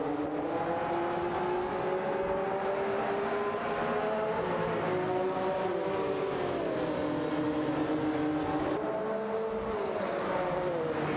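Two racing cars in a racing game, a McLaren F1 and a Porsche 911 G21, battle for seventh place, their engine notes rising and sliding steadily throughout as the pitch climbs and drops with gear changes, loud and continuous with no talk.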